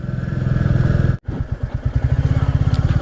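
A 2022 Royal Enfield Classic 350 with fuel injection, being ridden through a left turn, its single-cylinder engine thumping in a steady, loud, close rhythm with a brief dropout partway before the beat resumes.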